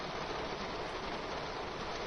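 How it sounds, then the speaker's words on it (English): Heavy rain in the Train Sim World 2 video game, a loud, steady broadband hiss of downpour with no let-up over the whole stretch and no voices. "Very loud, that rain, isn't it?"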